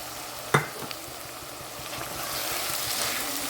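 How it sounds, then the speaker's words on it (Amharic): Onions fry in a pan with a steady, moderately loud sizzle that builds slightly over time, opened by one sharp clack and a few soft utensil taps, with no speech. "አሁን ሽንኩርቴን በደንብ አድርጌ እየጠበስኩት ነው።"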